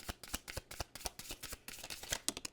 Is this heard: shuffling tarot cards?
yes